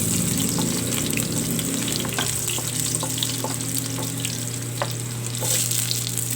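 Garlic sizzling and frying in a pan of hot oil for pork mechado, a steady broadband crackle with occasional stirring clinks, close and continuous, with a faint tap-water-like hiss underneath and no talking.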